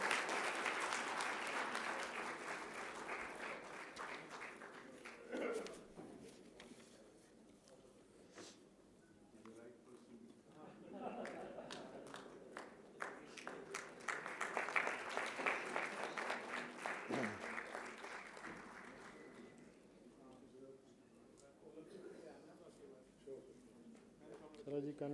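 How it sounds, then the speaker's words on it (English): Audience applause at a university convocation ceremony, sustained clapping that swells twice and fades, fairly distant in a large hall, with a voice speaking over the quieter stretches. "Give a big round of applause."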